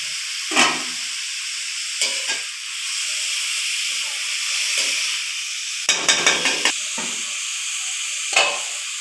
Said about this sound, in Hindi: इसको फ्राई करके निकालूंगी